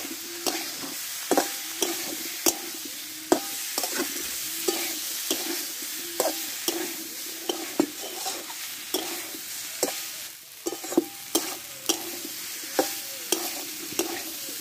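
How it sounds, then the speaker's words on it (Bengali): Potato and papaya sautéed with spice paste in a pan, rhythmic scraping strokes of a spatula about every half second over a soft continuous sizzle, close and alone. "এবার কষে রাখা আলু আর পেঁপেটা আমি দিয়ে দেবো এতে। দিয়ে মশলাটা একসঙ্গে ভালোভাবে কষে নেব।"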